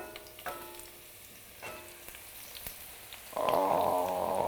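Cubed eggplant hits hot oil in a pan for caponata, giving a sudden loud sizzle near the end after a few quiet taps and utensil knocks.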